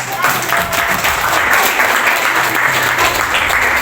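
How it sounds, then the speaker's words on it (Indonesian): Students in a classroom applaud a classmate, a loud, dense wash of clapping that holds steady throughout, with faint voices mixed in underneath. "Oke, tepuk tangan."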